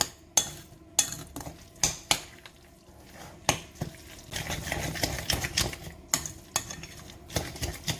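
A seasoning packet mixed into homemade salsa in a bowl: sharp, repeated tapping clinks of a utensil against the container, spaced at first and then a busier, denser run of scraping stirs, close and moderately loud, with no talk.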